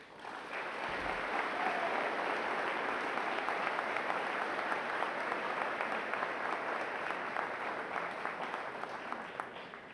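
An audience at a 2013 college recognition ceremony gives sustained, steady applause, welcoming a student speaker to the podium. The clapping stays full and even for the whole stretch, with no talk over it.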